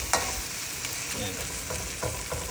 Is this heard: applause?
no